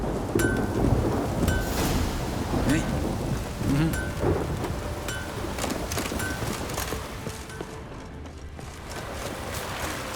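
A thunderstorm rolls through the woods of The Witcher 3: Wild Hunt, with steady heavy rain drumming on surfaces, low rumbles of thunder and occasional birdsong, filling the scene continuously with no voices.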